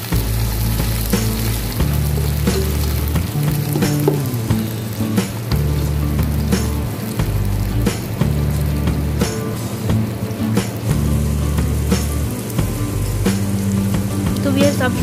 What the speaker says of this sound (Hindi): अब इसमें थोड़ा सा पानी शामिल करेंगे, 2 से 3 खाने के चम्मच, और अच्छी तरह इसे मिक्स कर लेंगे ताकि प्याज अपना रंग छोड़े।